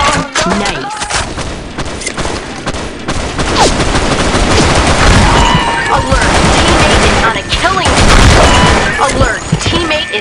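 Dense, loud gunfire from a weapon in the shooter game BlackShot on the Lost Temple map, continuous automatic bursts and explosive booms layered over each other, with a voice speaking under the barrage.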